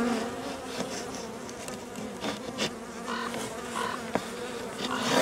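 Honeybees hum steadily around a nucleus hive, a dense close buzzing with individual bees droning past, alone with no voices.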